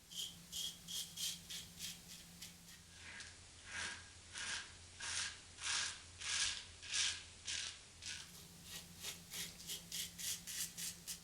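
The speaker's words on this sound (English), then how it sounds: "First pass with the grain with this Gillette Blue Tip vintage razor" A vintage Gillette Blue Tip safety razor makes a first pass with the grain, giving a steady run of crisp, rhythmic scraping strokes up close with no talking.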